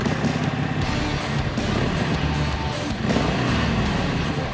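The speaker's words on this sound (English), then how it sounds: "once you hear that signature rolling thunder exhaust note" A Harley-Davidson 1200 Roadster motorcycle's exhaust rumbles nearby, a loud, continuous low throbbing note with slight rises in pitch and no talk over it.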